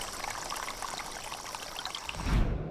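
Rainwater pours steadily through a rainforest in a dense, hissing wash with no letup, a deeper splash swelling near the end before the sound cuts off.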